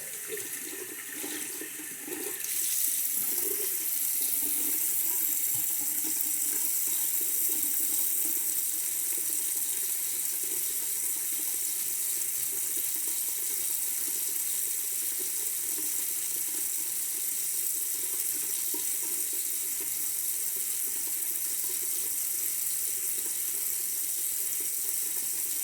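A bathroom tap runs steadily into a sink to rinse off a face mask, a constant close hiss of flowing water that starts after a brief pause and continues unbroken with no talking.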